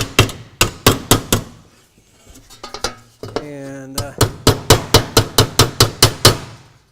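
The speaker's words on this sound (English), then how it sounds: "Take my hammer" Hammer blows on a steel hip cap during steel shingle roof installation ring out sharp and metallic in steady rapid series, with a brief pause in the middle, close and loud, with almost no talk.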